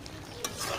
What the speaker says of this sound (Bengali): এখন আমি এই মাংসের সাথে আলুটা ভালো করে মিশিয়ে আরও আলুটা সিদ্ধ হওয়া পর্যন্ত একটু কষিয়ে নেব।